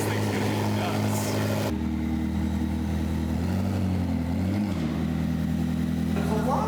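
A homemade P1 supercar runs on a dyno, its engine droning loud and steady with a sharp drop in pitch partway through and a wavering tone as it changes, and people talk over the noise.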